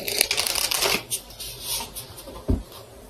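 Tarot cards being shuffled by hand, heard as quick papery riffles and flutters, dense in the first second, then sparser soft card slaps and a final thump.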